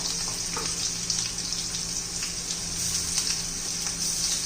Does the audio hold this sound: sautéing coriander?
yes